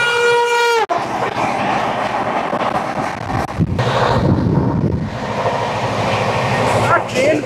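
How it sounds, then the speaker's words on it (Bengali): The Vande Bharat Express, train 20888 from Varanasi Junction to Ranchi Junction, rushes past at close range after a brief horn blast, with a loud, sustained roar of rolling wheels and carriages. "এবার আমাদের সঙ্গে দেখা হবে ট্রেন নম্বর 20888 বারাণসী জংশন থেকে রাঁচি জংশন"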